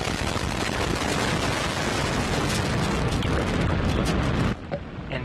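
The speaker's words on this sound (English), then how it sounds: "Lift off the Antares NG-19 launch vehicle" Antares NG-19 rocket lifting off from Wallops Flight Facility, a loud continuous crackling roar that cuts off abruptly into a quieter rumble near the end.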